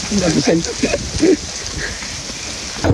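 Rain falls steadily during a motorbike ride, a constant broadband hiss of drops with a voice talking in short bursts over it, mostly near the start.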